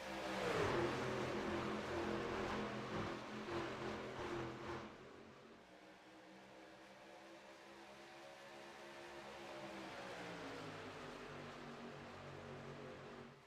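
Racing trucks in the iRacing video game roar at over 200 mph on a superspeedway oval, a loud continuous engine drone with pitch sweeps as the pack passes, no talk.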